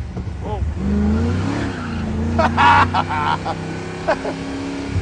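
An old, worn, loud Mazda RX-7 is driven hard through corners, its rotary engine droning steadily while tires squeal in short bursts and a voice briefly comes through.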